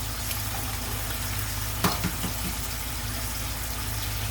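Eggs frying in a pan, a constant close sizzle with a low steady hum beneath and a couple of brief clinks partway through.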